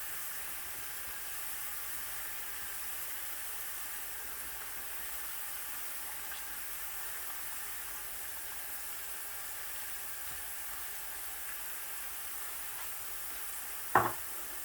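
Salami and beaten egg frying in a pan for an omelette, a steady soft sizzle and hiss that continues evenly throughout, with a single brief clink near the end.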